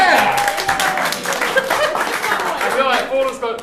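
A live audience at a comedy podcast show claps and chuckles together, a mid-distance patter of applause mixed with laughter and chatter.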